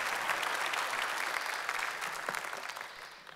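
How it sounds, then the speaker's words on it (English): A church congregation claps warmly for the incoming preacher, a dense, even round of applause that tapers slightly toward the end. "Dr. Stafford, let's give him a round of applause as he comes today and delivers God's word to us"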